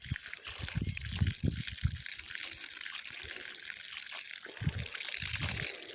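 Water gushes steadily from a newly installed garden irrigation line on a market garden fed by a pump, a continuous close splashing flow with low rumbling bursts underneath.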